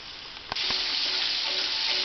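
Chicken pieces frying in hot oil: a steady, loud broadband sizzle that swells after a brief sharp crackle and continues unbroken, close up, with no voices.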